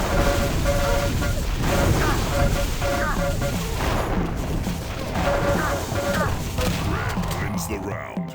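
Rocket launcher blasts and crackling lightning gun fire from a Quake Live clan arena round, dense and continuous over busy game music and effects, with repeated bursts throughout.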